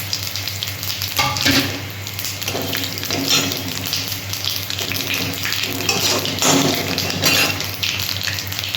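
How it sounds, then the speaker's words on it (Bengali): Cumin, bay leaf and dried chilli sizzle loudly in hot mustard oil, a close, dense crackle that swells in bursts while stirring scrapes the pan. "তেলটা গরম হয়ে গেছে, আমি ফোড়নটা দিয়ে দিচ্ছি।"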